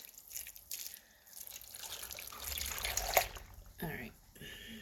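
Liquid poured over beef in an Instant Pot for stew, a soft splashing and trickling that builds toward the middle, with a person speaking over it.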